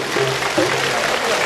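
Audience applause at an official installation ceremony for a Nigerien association bureau in Benin, a dense continuous clapping wash with a voice briefly heard over it.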